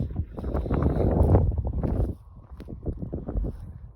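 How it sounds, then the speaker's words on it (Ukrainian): Gusty autumn evening wind buffeting the microphone on a farm, a loud rush for two seconds that then drops to a lighter, fluttering breeze. "А у нас знову вечір, знову вітер."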